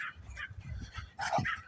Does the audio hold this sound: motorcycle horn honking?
no